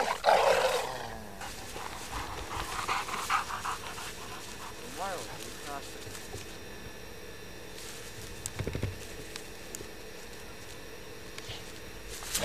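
A dog pants in quick, rough breaths, steady and fairly close, while people talk nearby.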